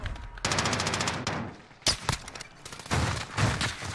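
Bursts of automatic gunfire in Call of Duty Warzone, loud, close rapid volleys broken by short pauses, with a sharp single crack near the middle.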